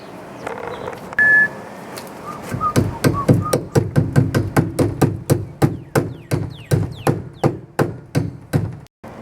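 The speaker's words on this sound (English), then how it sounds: "you have to hammer these on" Steady hammer blows tap metal rings onto a wooden center console, about two strikes a second, crisp and close. A faint beep sounds near the start.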